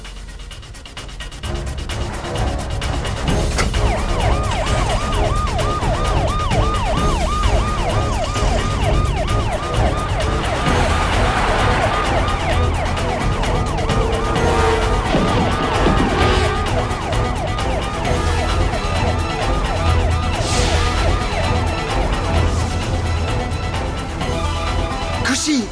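Wailing ambulance siren at a road scene, loud and continuous for the whole stretch with a rising and falling sweep, traffic rumble underneath.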